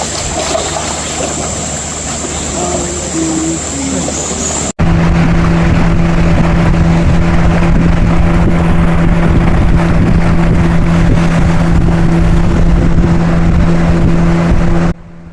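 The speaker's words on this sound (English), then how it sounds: "we are going along the Mulu River in a traditional wooden longboat like this" A motorized traditional wooden longboat engine drones steadily and loud over rushing water on the Mulu River in Borneo, after a quieter stretch of wind and ambient noise at the start.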